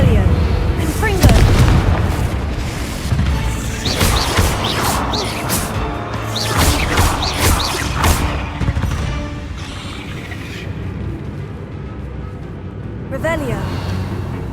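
Spell explosions from Confringo blasts in Hogwarts Legacy, heavy booms and crashes repeating every few seconds over a dense game soundscape, with a voice shouting spell names throughout.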